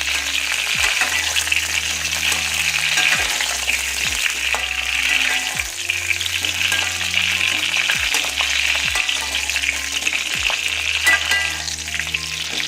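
Small lemons sizzle steadily in a hot pan of oil for homemade lemon pickle, a dense continuous fry with periodic low scraping thumps as they are stirred.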